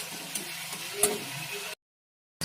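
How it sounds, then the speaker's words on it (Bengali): A spice paste of tomato and ground cumin, with a little sugar and coriander leaves, sizzles and is stirred in a pan for a cauliflower, potato and egg curry. Soft, steady frying with a few scrapes, then it cuts to silence. "এবার মশলাটা ভালো করে কষাবো।"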